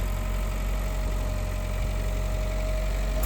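A Marklift 62c 4x4 lift's engine runs at a steady low rumble and hum, close and continuous as the machine drives back and forth.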